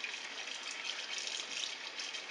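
Kitchen tap water runs steadily while pork chitlins are rinsed under it, a constant hissing gush at moderate level with no speech.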